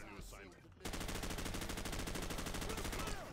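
Rapid automatic gunfire in a video game, fired at a light that cannot be shot through, starts abruptly and rattles on as a steady, loud burst of evenly spaced shots until near the end.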